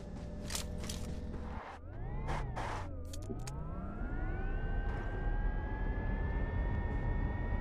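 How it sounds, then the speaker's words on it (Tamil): Helicopter flying in a shooting video game, a steady engine whine whose pitch dips and then climbs, with rapid rotor-like bursts at the start, heard close and continuous with no talk. "சரியான ஹெலிகாப்டர் இது கண்ட்ரோலே வர மாட்டேங்குது"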